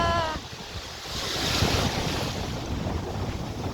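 Rough sea waves roll and wash continuously, with wind buffeting the microphone over the churning surf.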